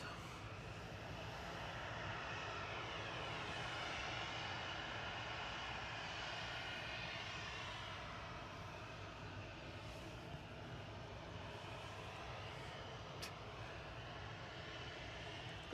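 Distant airliner engines at Manchester Airport hum steadily as the jet taxis along the taxiway, a low continuous roar that swells slightly and then eases, with no voices over it.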